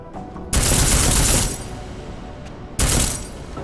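Silenced gunfire in a video game comes as two rapid bursts of muffled automatic shots, loud and close, separated by a stretch of quieter background sound.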